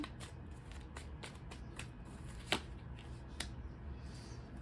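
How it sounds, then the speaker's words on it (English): Tarot cards riffle and slap softly in quick bursts, with a few sharper snaps standing out against a quiet room. "Okay, 2 more shuffles, and another draw."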